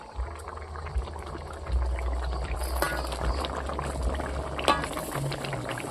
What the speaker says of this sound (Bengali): ঝোলটা ফুটে গেছে দেখুন